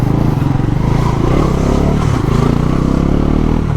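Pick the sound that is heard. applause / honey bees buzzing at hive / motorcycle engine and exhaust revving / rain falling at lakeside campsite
motorcycle engine and exhaust revving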